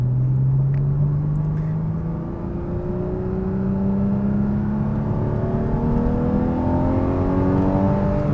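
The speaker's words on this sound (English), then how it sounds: "Now will be a good time just to let the engine run out a little." A Porsche engine revs steadily upward as it accelerates, a smooth rising drone with a shift partway through, close and alone.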